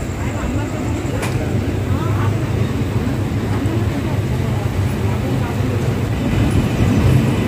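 The Haripriya Express pulls out of Kadapa railway station at night, a steady, loud rumble of rolling coaches filling the whole stretch with no break.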